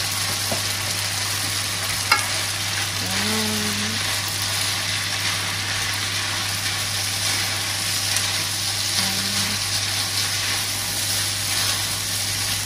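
Pasta is stirred with pesto sauce in a sizzling pan: a steady frying hiss runs throughout, with a few scraping stirs, a constant low hum behind it, and no talking.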